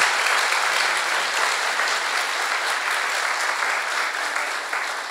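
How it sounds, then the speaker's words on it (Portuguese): Audience applause for a string and guitar ensemble with violin, cello and acoustic guitar at an anniversary concert, a dense, even wash of clapping that holds steady and fades slightly at the end. "Palmas pra eles."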